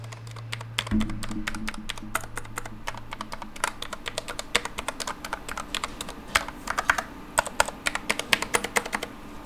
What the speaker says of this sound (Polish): I teraz test klikania w klawiaturę.